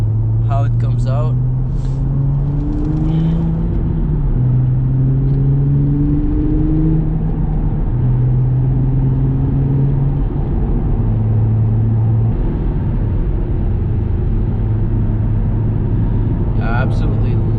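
8th gen Honda Accord cruising on a highway: a loud, steady engine drone and road roar inside the cabin, the engine pitch climbing and dropping through gear changes, with talk over it.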